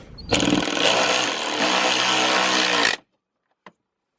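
A handheld power tool tightens a fastener on the plastic bumper of a 9-3 Arc car. One loud, buzzing whir lasts under three seconds and stops sharply, followed by a faint click and near silence.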